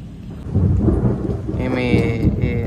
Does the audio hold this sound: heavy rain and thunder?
yes